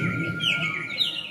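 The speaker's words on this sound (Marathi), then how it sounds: "पक्ष्यांचा किलबिला" Birds chirp and tweet steadily in a busy, continuous chorus, with a faint low rumble underneath.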